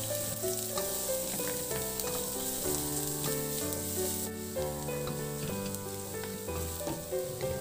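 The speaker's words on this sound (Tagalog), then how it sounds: "Maglagay ulit ng mantika sa kawali at igisa na rin yung bawang" Minced garlic sautéing in oil in a frying pan, a steady close sizzle throughout with stirring, while background music plays over it; the dish is sotanghon guisado.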